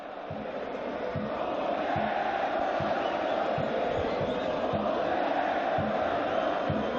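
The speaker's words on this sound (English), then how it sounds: "And the fans, great to hear, really." A large football crowd fills a stadium at an Asian Champions League round-of-16 match between FC Istiklol and Persepolis FC, a steady roar with rhythmic drumbeats and chanting carrying throughout.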